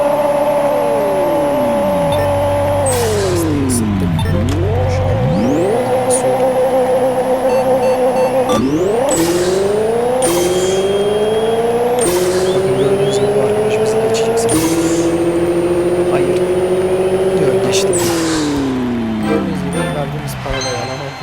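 Pixel Car Racer game engine sound: a synthetic racing engine revs up through repeated gear shifts, each pitch climb ending in a sudden drop, loud and constant with electronic tones on top.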